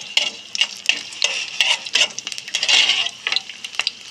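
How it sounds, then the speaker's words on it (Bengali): Garlic and dried red chillies drop into hot oil in a pan, giving a steady close sizzle broken by repeated scraping stirs of a utensil against the pan over about four seconds, with no voices. "এইদিকে আমার তেলটা গরম হয়ে গেছে। এরপর এর মধ্যে রসুন আর শুকনো লঙ্কা দিয়ে দেব,"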